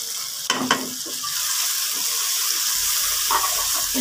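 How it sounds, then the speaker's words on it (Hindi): Masala frying on a medium flame for potato beef curry (aloo gosht), a close, steady sizzle with a few spoon scrapes and knocks at the start and again later. "मसाला बिल्कुल मीडियम फ्लेम पे भूनना है"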